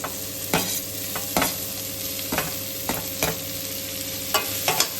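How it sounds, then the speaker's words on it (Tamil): Cabbage for momo filling is stir-fried in a hot pan, a constant sizzle punctuated by regular sharp scrapes and tosses of the spatula, close and clear with no talking. "இப்போ நம்மளோட கேபேஜை இதில் ஆட் பண்ணிடலாம்."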